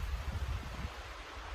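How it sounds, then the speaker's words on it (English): Strong wind buffeting a phone microphone outdoors during a Wyoming archery elk hunt, a steady low rumbling gust with no voices. "Now it's really windy, so that's great."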